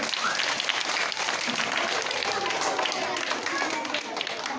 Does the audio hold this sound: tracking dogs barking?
no